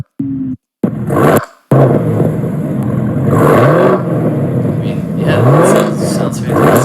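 A Dodge Hellcat engine howls loud and close under full throttle down a backstretch, with rising revs and shifts. Brief dropouts break the sound early on, and a voice talks over part of it.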